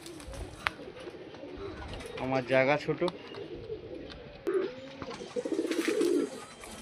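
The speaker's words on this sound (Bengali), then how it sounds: "পায়রা ফুল অ্যাক্টিভ অ্যান্ড ফিটফাট আছে" Pigeons cooing in short rolling bursts nearby, with a person talking over them.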